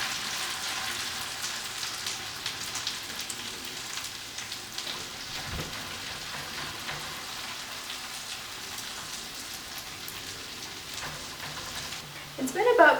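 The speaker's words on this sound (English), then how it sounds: "I'm going to go ahead and put my first pancake in here" A crepe fries in a pan with a steady, gentle sizzle like light rain, fairly soft and continuous, with a brief louder clatter at the end.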